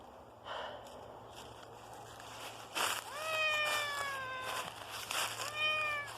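An unhappy cat gives long, drawn-out, whining meows at another cat, several strained, rising-and-falling calls with snorts and sniffs between them, close and fairly quiet.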